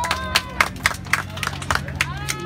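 An audience at a neighborhood Children's Day celebration gives a short burst of scattered applause, a few quick claps over a murmur of crowd noise, close and moderately loud.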